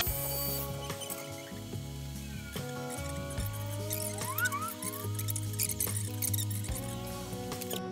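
A metal pommel nut is threaded by hand with a tap, giving quiet close-up squeaks, clicks and grinding creaks in short uneven turns.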